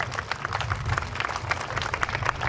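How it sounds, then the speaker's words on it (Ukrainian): An audience applauds at an outdoor gala jazz concert on the central square in Berdychiv. Dense, steady clapping from the crowd carries throughout. "Ваші аплодисменти."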